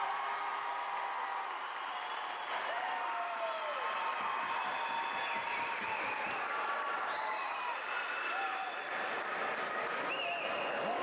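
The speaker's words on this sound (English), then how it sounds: "And listen to this crowd." Crowd at a high school volleyball match between Metamora and Wheaton St. Francis cheering during a timeout, a dense sustained roar with whoops and shouts filling a gym, loud and continuous throughout.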